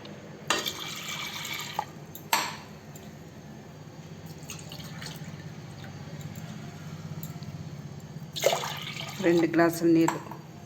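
Two glasses of water are poured into a metal pot of lentils in two short bursts, with clinks of cookware and dripping in a quiet kitchen.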